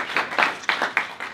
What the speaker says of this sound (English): Let's give a round of applause to everyone watching in or listening in.